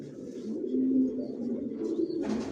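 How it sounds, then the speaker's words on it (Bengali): Johnson line racer pigeons in a loft give a soft, steady low coo at close range, with a brief brighter rustle near the end. "আমার লফটে সব জনসন লাইনের কবুতর পালি।"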